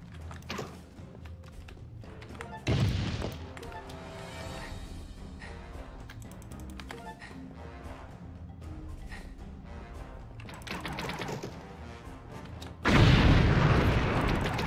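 Bomb blasts in the Minecraft-based game AdventureCraft: Zelda, two loud booming bursts near three and thirteen seconds over a continuous bed of game music and clattering effects.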